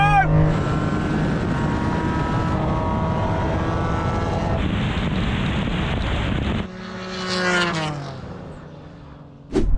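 A Nissan Skyline R34 in a real-life drag race roars loudly past with rising gear-change tones and wind buffeting; a second engine screams up near the end, with voices shouting over it.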